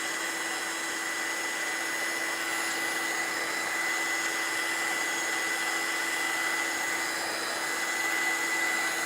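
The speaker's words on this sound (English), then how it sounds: "I'm drying the flowers and the light bulbs." A hair dryer blows steadily on paper flowers and light bulbs at a table, a constant close whooshing hiss with a faint whine that holds unchanged throughout.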